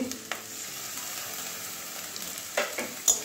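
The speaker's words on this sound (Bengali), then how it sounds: "কাঁচা গন্ধ যাওয়া পর্যন্ত ভাজবো। এবারে আদা রসুন পেস্ট দিয়ে দিচ্ছি" Ginger garlic paste frying in a pan for stuffed pointed gourd dorma, a steady soft sizzle with a few brief stirring scrapes near the end, close and fairly quiet.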